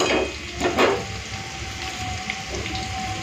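Potatoes frying in hot oil: a steady, bright sizzle and crackle with a few louder spatters near the start, continuing evenly without talk.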